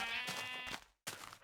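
A video-game sheep bleats twice in quick succession, close and clear. The first cry is longer and wavering, then a brief silence comes before a shorter second bleat.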